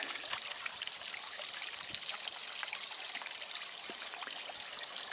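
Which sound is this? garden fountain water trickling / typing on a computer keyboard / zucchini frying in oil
garden fountain water trickling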